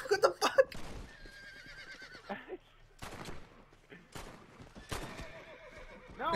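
A horse neighs loudly in Red Dead Redemption 2 multiplayer at the start, with clip-clop hooves and scattered gunfire following, while players talk over the game sounds.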